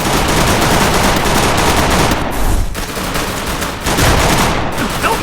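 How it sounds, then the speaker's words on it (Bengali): Dense, loud, continuous rapid-fire gunshots with no pauses, like a pistol emptied over and over as a comic sound effect, with no speech. "দেখি তোর পিস্তলে কত গুলি আছে, চালাও চালা গুলি"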